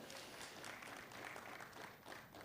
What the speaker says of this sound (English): A round of applause, the Muvule seedling.